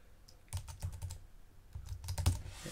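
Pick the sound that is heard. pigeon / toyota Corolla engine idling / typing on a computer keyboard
typing on a computer keyboard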